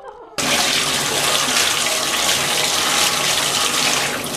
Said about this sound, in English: That's how BOYTOY takes a shower, guys